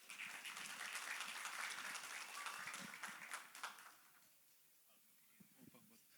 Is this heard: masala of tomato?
no